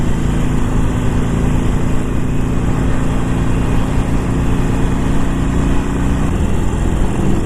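A 2019 Harley-Davidson Iron 1200 motorcycle pulling hard after the clutch is let out, a loud steady low engine drone with a constant rumble, close up and unbroken, with no speech.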